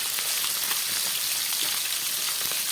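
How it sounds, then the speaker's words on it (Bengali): Fish sizzling in hot oil as cumin and nigella seeds are added for tempering, a loud, steady crackling hiss that runs on without a break and without any voices. "মাছগুলো ভাজা হোক, আমি এখানে কিছুটা ফোড়ন দিয়ে দিচ্ছি।"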